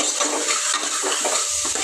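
Chicken gravy with ginger garlic paste is stirred in a pan, giving a quick run of close, scraping and clinking strokes over a soft sizzle, with no talking.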